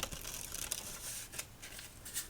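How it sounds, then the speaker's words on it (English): Playing cards being shuffled in a few quick, crisp riffling bursts, close and fairly quiet. "Last shuffle."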